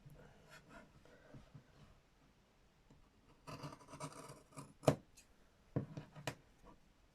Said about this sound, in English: Get my super sharp big scissors.